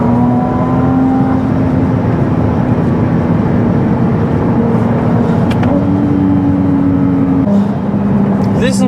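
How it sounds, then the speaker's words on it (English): Loud engine of an 830 hp Ferrari 296 drones and revs from inside the cabin on the Autobahn, with pitch shifts as it accelerates and a brief whooshing turbo blow-off near the end. "Listen to that blow off."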